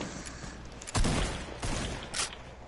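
Gunfire in a PS4 shooter game, a few loud bursts of shots about a second apart against steady game background noise.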